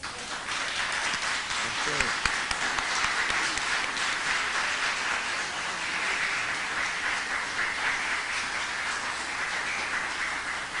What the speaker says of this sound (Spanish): el aplauso es reflejo de la admiración y del agradecimiento al profesor Medina Durón